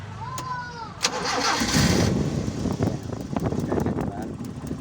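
Car engine with one spark plug removed cranks over and catches, then runs roughly with an uneven idle while someone talks nearby.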